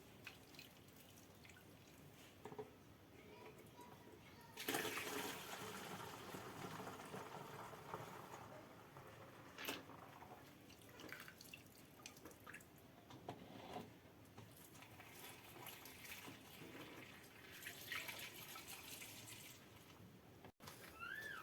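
Bleach trickling and splashing into one-litre bottles, a steady pouring sound with clinks and handling noises, close by and fairly quiet.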